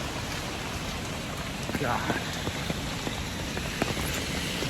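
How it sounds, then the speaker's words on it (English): Heavy rain pours steadily at a temple in Beijing, a dense close hiss with scattered drips and splashes, and a voice briefly exclaims over it. "The rain is just unreal."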